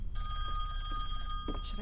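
Steady electronic telephone bell ringing in the horror game Song of Horror, continuous and fairly prominent over a low hum, with a brief human vocal sound near the end.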